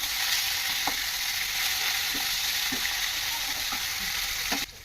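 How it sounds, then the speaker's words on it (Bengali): Fish pieces fry in a pan with a steady, fairly soft sizzle, punctuated by a few faint clicks as they are turned, and no talking. "ভালো করে ভেজে নেবো মাছটা। মাছগুলো উল্টো পাল্টে দেবো"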